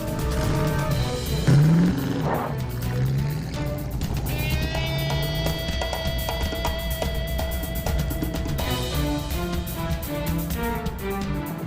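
A moving car drives along steadily while its horn sounds a sustained, constant tone in the middle stretch, over a continuous engine and road rumble, with no talking.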